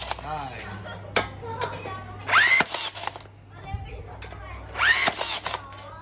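Used Japanese-made Makita TR180D brushless 18V rebar tying tool running in two short mechanical bursts a few seconds apart, each a rising whir and clack, with background noise between.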